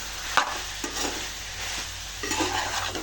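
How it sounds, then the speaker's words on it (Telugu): Chicken pieces coated in chili powder are stirred in a pan, with a soft sizzle and scraping strokes at an even pace, close by and fairly quiet, for a meal maker chicken curry. "ఇప్పుడు కారం బాగా కలుపుకోవాలి."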